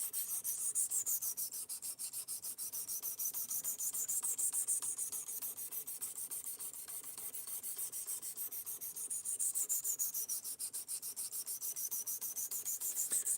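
A knife blade is drawn repeatedly across the stones of a Precision Adjust Professional sharpener, giving close, rhythmic gritty rasping strokes in steady back-and-forth cycles with no talk.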